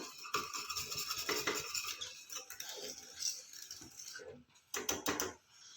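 Spoon scraping and stirring raw rice batter in a pan for homemade fryums, a busy run of metallic scrapes and clinks with brief pauses, a sharp cluster of clatters near the end, close and fairly loud.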